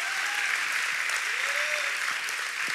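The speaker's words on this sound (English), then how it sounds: "give the Lord a hand clap of praise" A church congregation claps their hands in sustained, energetic applause in praise, with scattered voices calling out faintly beneath the clapping.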